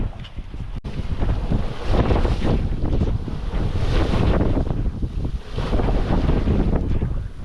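Strong wind buffets the microphone aboard a sailboat tacking near an island off southern Denmark, a steady loud rush mixed with waves and water slapping the hull, with no talking.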